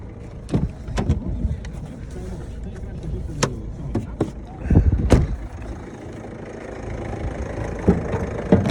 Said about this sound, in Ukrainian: От зараз чуєте, як мотор робить.